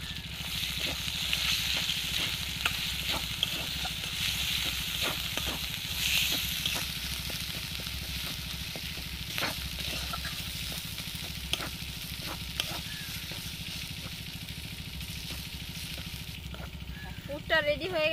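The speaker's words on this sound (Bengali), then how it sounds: "এর মধ্যে আমি বেটে রাখা কড়াইশুঁটিটা দিয়ে দিচ্ছি।" Ground green pea paste frying in oil with green chilli and ginger paste, a steady close sizzle with scraping stirs and soft clicks of a spatula against the pan, continuing for a long stretch.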